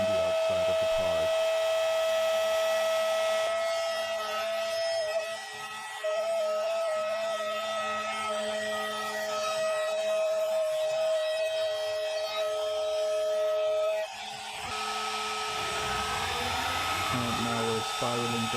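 A CNC machine cuts a 45-degree chamfer around the outside of a prototype messer training blade, giving a loud, steady high-pitched whine that holds for most of the stretch, with brief dips and a pitch change near the end.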